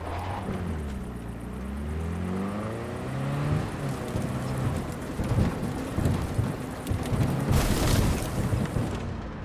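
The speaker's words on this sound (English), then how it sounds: "That is one hell of a storm!" A thunderstorm in the video game Cyberpunk 2077 brings steady heavy rain with deep rolling thunder that swells and sweeps, growing louder and crashing toward the end, with no talking.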